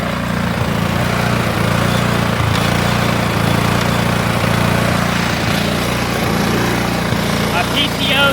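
A Cub Cadet HDS lawn tractor engine runs steadily and loudly at close range, a continuous buzzing drone with a low rumble that holds without a break.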